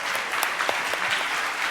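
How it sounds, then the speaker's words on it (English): Dense audience applause fills the room steadily, many hands clapping close and loud without pause, with no talking over it. "Let's give them a big round of applause"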